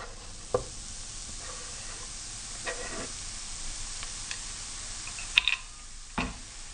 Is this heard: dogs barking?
no